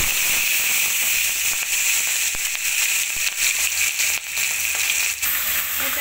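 Pieces of large fish sizzle continuously in hot mustard oil in a pan, a loud, even hiss of frying with occasional sharper crackles and pops.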